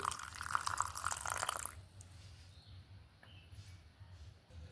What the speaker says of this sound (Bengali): দিয়ে নিচ্ছি একটুখানি জল